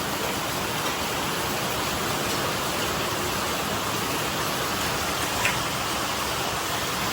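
Dense, steady downpour roars continuously without pause, a heavy wash of rain close by with no voices.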